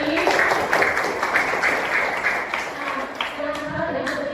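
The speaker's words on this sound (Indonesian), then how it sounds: "Kalau beri tepuk tangan untuk Andri." A group of children claps in a short burst of applause, with voices chattering over and around it.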